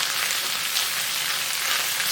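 Flour stirred quickly into melted butter in a hot pan gives off a steady, close sizzle with a bright, crackling hiss that holds evenly throughout, with no voices.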